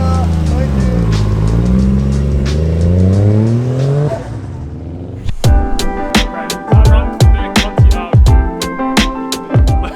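Ford AU Falcon with a newly modified exhaust revving hard up close, its loud engine note climbing and falling, followed by a run of sharp, punchy blips. Voices talk over the first part.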